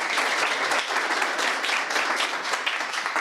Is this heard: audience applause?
yes